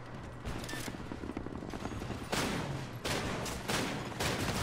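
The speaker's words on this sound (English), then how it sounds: "I don't like shooting without a suppressor" Rapid bursts of unsuppressed gunfire in the video game Titanfall, loud and dense with continuous rattling volleys and heavier blasts partway through, no voices.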